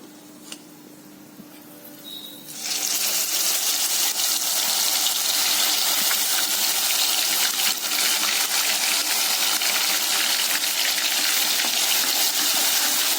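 Onion paste hits hot oil for channa masala, a sudden loud sizzle erupting after a quiet moment and then holding as a dense, continuous close hiss with no voices.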